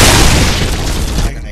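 A launcher explosion in Gears of War 3 erupts as one loud, dense boom that fills the clip before cutting off abruptly.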